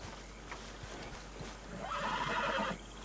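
In Red Dead Redemption 2, a horse's hooves clop softly in scattered steps before a loud whinny rises near the end, with faint background ambience underneath.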